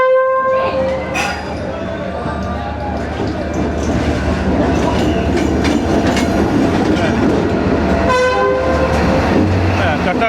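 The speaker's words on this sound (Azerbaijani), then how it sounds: "Aha, gəlir qatar. Qatar gəlir." A train rolls close past along a street in Hanoi, its horn blaring in loud toots at the start and again near the end over rumbling wheels and clatter, while people talk nearby.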